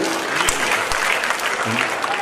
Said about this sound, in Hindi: एक बार फिर से तालियां बजा करके इजाजत दीजिए